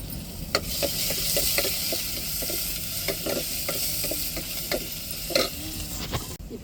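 Garlic crushed on a stone mortar fries for rasam in a pan, a continuous crackling sizzle punctuated by repeated spoon scrapes and taps as it is stirred, close and clear.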